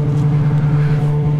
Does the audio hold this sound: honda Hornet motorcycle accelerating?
yes